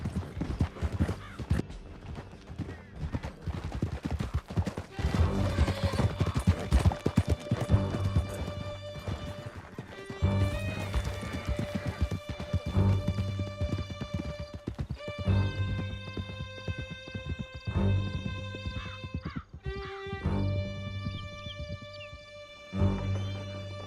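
Horse hooves clip-clop at a steady gallop in the Red Dead Redemption 2 video game, loud and continuous, with occasional whinnies over background game music.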